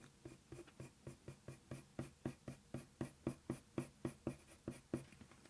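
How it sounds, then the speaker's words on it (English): A colored pencil laying light strokes on paper makes a steady run of soft, rhythmic scratching taps, about three or four per second, close and fairly quiet with nothing else present. "a very light layer of these dark spots with the Nougat pencil."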